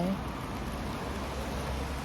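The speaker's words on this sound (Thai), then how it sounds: "ฝนตก" Steady rain hissing evenly throughout, a dense wash of noise with no breaks, fairly close and moderately loud.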